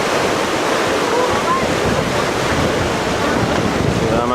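Strong 19-knot wind and breaking waves roar steadily around a sailboat running downwind on an Atlantic crossing from the Canaries, loud, constant wash and buffeting with no voices.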